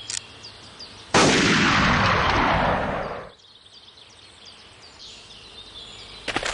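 A single loud rifle shot cracks in the Hunting Unlimited 2010 hunting game, then a long rolling echo fades over about two seconds into quiet outdoor ambience.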